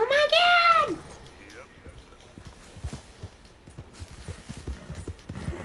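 A horse in a video game gives a sharp whinny at the start, followed by rhythmic hoof clip-clops at moderate volume, with people talking over the gameplay.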